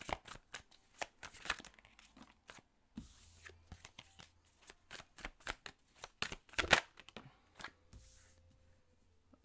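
Tarot cards being shuffled for a card draw, a long run of quick crisp flicks and riffles in uneven bursts, close and fairly quiet, no talk.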